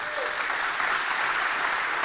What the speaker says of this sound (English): This beautiful young lady, give her a round of applause